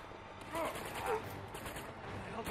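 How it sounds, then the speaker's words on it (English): Gunfire in the video game Uncharted 2: a busy fusillade of shots under dense game noise, loud and continuous across the moment with no clear talk over it. "Shoot him."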